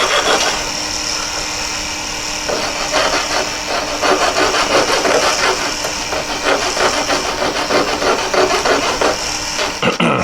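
A thin jeweller's saw blade rasps through a solid metal ring head in quick, even back-and-forth strokes, close and loud over a steady hum.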